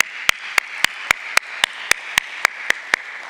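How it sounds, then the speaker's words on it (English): Clapping at the Fino Payments Bank stock listing ceremony, a run of sharp, evenly spaced claps in a steady beat, clear and close with nothing else around them. "A huge round of applause for them."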